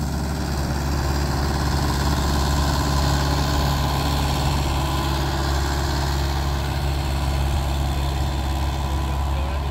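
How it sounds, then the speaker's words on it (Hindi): A Mahindra 575 XP Plus tractor engine runs in first high gear with a noticeably harsh tone, a loud, close, steady diesel drone that holds without change throughout. "पहले के हाई में ट्रैक्टर चल रहा है, और साउंड में भी काफ़ी हार्डनेस आने लग गई है"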